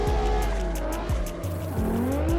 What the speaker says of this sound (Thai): แม่เสียงโบนี่ปิ้วปิ้วปิ้วเลยนะ